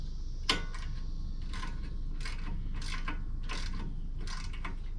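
A wrench ratchets as strut bolts are tightened on a 2011 Chevy Traverse, sounding as several short bursts of clicking with a sharp metallic tap near the start, close by over a low steady hum.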